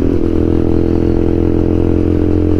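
A TVS Apache RTR motorcycle with a loud aftermarket full system exhaust idling and revving close by, a steady deep throbbing rumble with harsh rattling overtones, no pauses.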